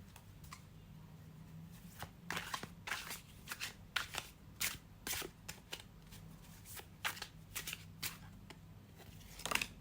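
A tarot deck shuffled by hand, soft riffling flutters and card snaps in irregular bursts, close and quiet, with no talking.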